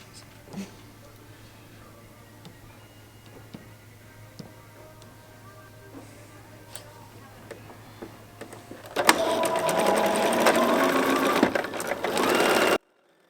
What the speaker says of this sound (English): Pin it and sew that edge to make a tube.